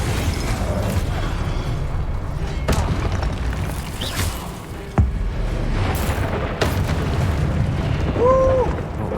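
Incendio fire spell cast in Hogwarts Legacy, heard as a few sharp bursts and booming impacts scattered across a continuous roar of combat noise, with brief chirping effects near the end and a voice talking underneath.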